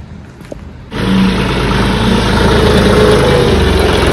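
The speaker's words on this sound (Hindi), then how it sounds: "ट्रैक्टर निकालने जा रहा हूँ।" A tractor engine turns over and settles into a loud, steady running drone close by, with a dull rumble underneath, at a rural brick kiln.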